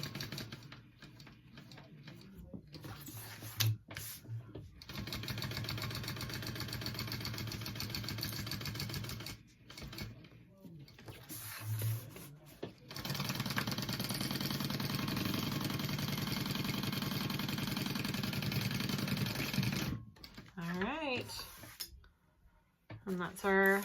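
A sewing machine stitches back and forth across a backpack panel, whirring in sustained bursts broken by short pauses, with a voice talking between runs.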